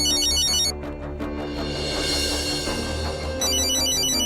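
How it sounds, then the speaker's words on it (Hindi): A phone ringtone plays loudly, a bright repeating electronic melody that breaks off briefly and then resumes, with no voices. "वृंदा फोन कर रही ह"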